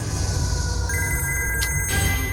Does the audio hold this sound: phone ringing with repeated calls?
yes